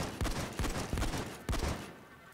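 Repeated shotgun blasts from the video game Payday 2, about five heavy booming shots at an uneven pace with short reverberant tails, loud and up close with no talking.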